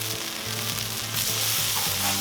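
Burgers sizzle loudly on a Cuisinart 360 griddle outdoors, a constant close frying hiss with a faint low hum pulsing beneath it.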